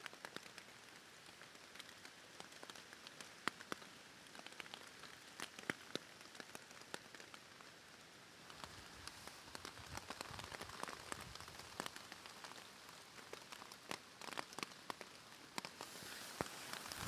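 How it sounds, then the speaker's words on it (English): Heavy rain drums steadily on a tarp and surrounding leaves during a storm in the woods while hammock camping, a dense constant patter with scattered louder drips, no talking. "I think I'm in the middle of the storm right now."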